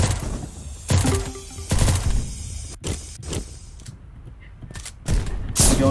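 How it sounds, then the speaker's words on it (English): Shotgun blasts in the top-down shooter surviv.io, several loud separate booms spaced a second or so apart, with game effects between them. "Going in there, shotgun blazing."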